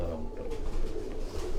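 A pigeon held in the hand gives soft, low cooing in a brief, close murmur.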